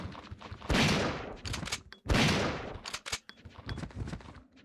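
Gunfire in Resident Evil 3: Nemesis comes as two loud, close blasts with noisy tails about a second apart. Sharper, quicker shots and clicks follow in between.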